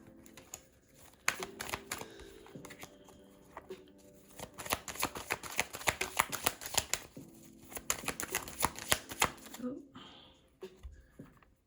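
Tarot cards being shuffled and drawn at close range: crisp, papery riffles and flicking bursts that come in quick clusters, with a voice heard now and then.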